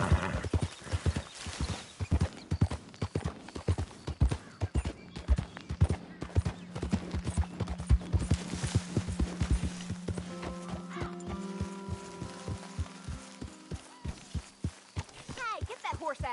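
Horse hooves clip-clopping in Red Dead Redemption 2, a steady run of sharp, close hoofbeats that keeps going, with a horse whinnying and a low droning tone partway through.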